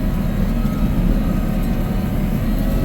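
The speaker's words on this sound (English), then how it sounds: "This freight train up here, buddy." A freight train passes nearby, a steady loud low rumble of rolling wagons that holds constant throughout with no break or horn.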